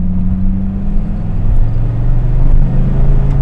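A Dodge Viper GTS engine pulls hard under acceleration in third gear, a loud, steady low growl rising gradually in pitch, heard from inside the car with no talking.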